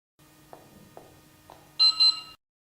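A solar-powered wireless infrared beam detector receiver for a burglar alarm system gives a few faint clicks, then two short, bright beeps in quick succession, in an otherwise quiet room.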